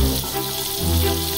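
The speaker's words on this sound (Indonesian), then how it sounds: "kita mau tumis dagingnya" Beef sautés in hot butter in a wok with a steady, close sizzling hiss. The sizzle is brief and has no other sounds over it.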